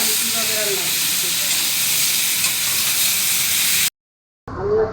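Loud, steady hiss of fish hitting spiced gravy in a hot pan on a home stove, a dense sizzle that cuts off abruptly, then resumes briefly.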